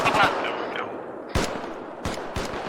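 Sharp bursts of rapid machine-gun fire in the video game Arma 3 crack out close and loud, separated by short pauses, with a voice speaking near the start.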